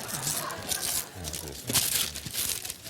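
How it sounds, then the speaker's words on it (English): Gift wrapping paper is torn and crumpled off a present, a boxed Battleship board game, in a TV talk-show studio. Short crinkling and ripping bursts come up close, with voices in the background. "I don't really unwrap my own presents."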